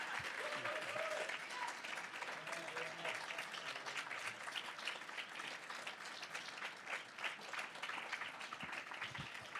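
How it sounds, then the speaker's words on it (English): Audience applause fills a conference plenary session, a dense, even clapping from a large crowd that holds steady for about ten seconds. "Big round of applause, please."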